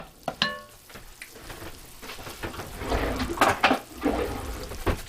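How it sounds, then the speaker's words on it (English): A roux of fat and flour cooking in a pot for a beef and chicken pot pie, giving a steady close sizzle and crackle with scattered pops and brief stirring scrapes, with no talking. "what you're going to want to do is just cook that roux a little bit"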